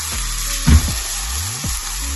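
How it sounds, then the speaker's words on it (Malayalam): Water and tamarind liquid for a fish curry bubbling and hissing steadily in a pot, with a couple of brief clinks and stirring knocks over the continuous boil. "വെള്ളം നന്നായിട്ട് തിളച്ചിട്ടുണ്ട്"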